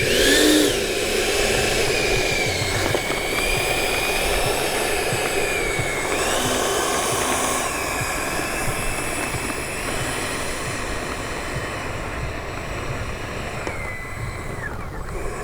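A Freewing 70mm ME 262 RC jet with electric ducted fans spools up and takes off, a steady high-pitched whine holding throughout with shifting pitch, loud and close at first and then easing slightly.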